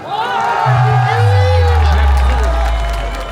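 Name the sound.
crowd cheering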